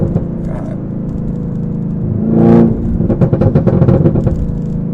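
Exhaust of a lowered ZL1 Camaro rumbles deep and steady up close, swelling in one brief rev midway before settling back into a pulsing, burbling idle.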